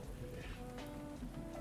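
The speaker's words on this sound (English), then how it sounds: "I think it's only rain sounds in here" Steady rain patters in a video game, a soft continuous wash of drops on surfaces, faint and even throughout with no talking.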